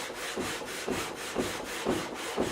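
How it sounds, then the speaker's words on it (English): Steady rhythmic scraping of 400-grit sandpaper on a guitar fretboard, repeated back-and-forth strokes about twice a second, close and continuous with no talking. "We're going to go with 400 grit and we're going to do a final sanding"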